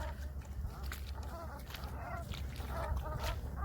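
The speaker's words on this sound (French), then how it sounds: "Il va aller chasser les oiseaux." Fowl call outdoors in the countryside, with a few short honking or clucking calls scattered across a steady murky background and a low rumble, fairly distant and faint.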